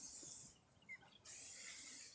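Tropical strength fly spray hisses from an aerosol can in two bursts, a longer one, a short pause, then another sustained spray, close and fairly loud.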